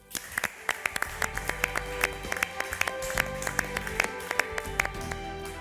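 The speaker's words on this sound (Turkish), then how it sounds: "Bir kez daha alkışlayalım bence." A small studio group on a cooking competition claps in a loose, uneven rhythm, with sharp individual claps over a low background hum that continue for several seconds.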